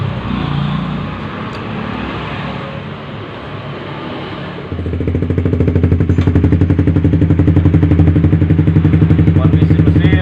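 A Suzuki GSX Bandit motorcycle engine runs close by after a clutch plate replacement, idling with clatter and then rising to a louder, steady rumbling pulse for the remainder.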